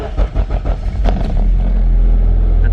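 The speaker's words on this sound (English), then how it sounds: "I think there's a slight exhaust leak" A K20-swapped EK sedan's engine revs up from choppy, pulsing idle to a sustained loud drone, close by, with a slight exhaust leak adding rasp; no talk during the run.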